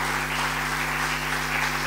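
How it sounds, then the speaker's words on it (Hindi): A congregation claps during a Christmas sermon, a short, steady burst of applause at moderate level over a constant low electrical hum. "जोरदार तालियां खुदा उनके जलाल के लिए।"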